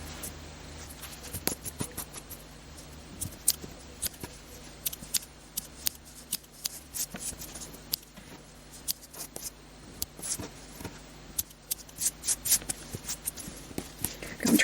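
Repeated crisp snips of scissors trimming yarn ends on a mosaic crochet piece, with irregular close clicks and rustling of the yarn and fabric throughout.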